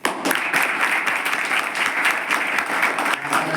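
A crowd applauds for a teacher, Vajpayee sir, at a tribal hostel in Gopal Nagar, Amravati: dense, steady clapping from many hands, fairly close and loud, running unbroken throughout.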